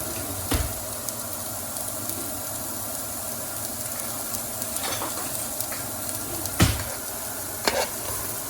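Onions, garlic and half a tablespoon of fennel seeds sauté in a pan for a curry potatoes and chickpeas dish, a continuous close sizzle with occasional sharp clanks and scrapes from stirring, no talking.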